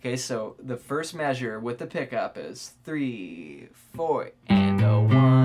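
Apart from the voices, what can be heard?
None of the usual background noises is heard.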